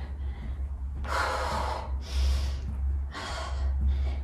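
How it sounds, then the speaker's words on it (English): Heavy, forceful breaths come in three loud rushes during a full-body HIIT home workout, close to the mic over a constant low hum. "Breathing in through your nose, out through your mouth."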